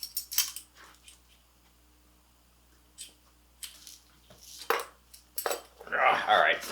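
A metal teaspoon clinks and scrapes inside a cup of instant coffee, a few scattered taps and swirls with gaps between them, ending in a louder burst of clattering stirring.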